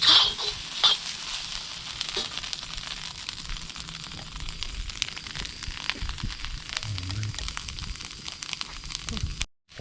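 Food softly frying in a pan in a village farmhouse kitchen gives a steady, fairly faint crackling sizzle that runs on for about ten seconds, with voices talking at moments over it.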